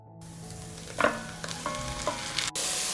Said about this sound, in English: The vegetables have softened and I add 500 grams of chicken fillet